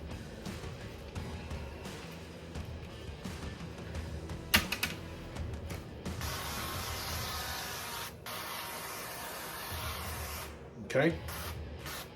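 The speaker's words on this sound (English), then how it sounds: "Okay, and we're going to spray the other side." Cooking oil sprayed onto the second side of pork cutlets before air frying, heard as soft hissing bursts with scraping and handling noises, while a person briefly speaks.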